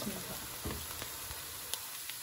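Crushed garlic frying in a pan, a soft, faint sizzle with scattered light crackles and pops, close and steady with no voices.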